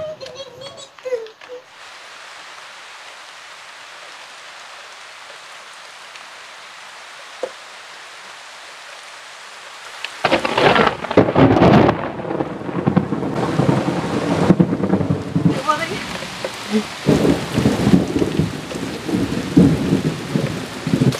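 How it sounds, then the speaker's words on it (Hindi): A heavy mountain downpour sets in after a quiet stretch, with dense loud rain drumming nearby and rumbles of thunder, while voices talk faintly beneath it. "इतना ज़बरदस्त बारिश होने लगा ना कि हम लोग एकदम टका आ गए"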